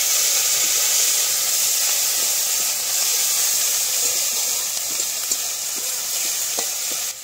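Onion paste sizzles in a pan over a clay stove, a loud, dense, unbroken hiss with soft scattered stirring clicks.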